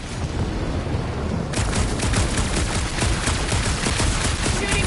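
Rapid gunfire in the Guardians of the Galaxy video game: a burst of dense shots that turns into a sharp, loud, fast rattling volley partway through and keeps pounding steadily to the end, with no voices.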